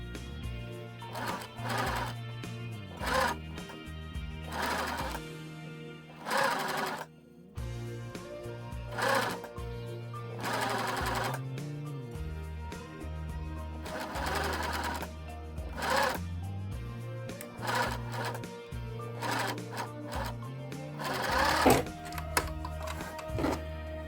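Straight-stitch sewing machine stitching a fur coat, its motor whirring in repeated runs of rapid needle clatter with short pauses between seams, close and steady throughout.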